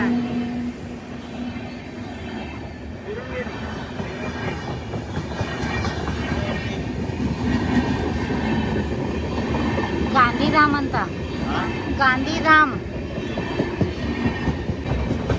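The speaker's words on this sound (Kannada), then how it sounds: "ಸೊ ಫೈನಲ್ ಟ್ರೈನ್ ಬಂತು" A train arrives at a railway station near Alleppey in Kerala, a steady loud rumble of rolling wagons with clattering wheels and a few squealing notes, while voices murmur around it.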